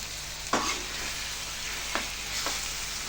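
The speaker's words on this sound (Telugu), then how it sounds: "ఇప్పుడు దీని ఒక 5 మినిట్స్ అట్లా వేయించుకోవాలి మంచిగా." Chicken fries in a pan with a steady close sizzle, broken by three scraping stirs of a spatula.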